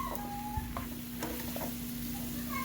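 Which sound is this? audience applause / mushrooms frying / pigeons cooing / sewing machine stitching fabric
mushrooms frying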